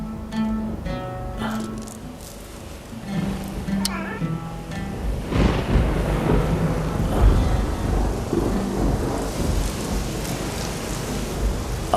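Steady rain pours down, growing heavier partway through and holding as a dense hiss under music and talking voices.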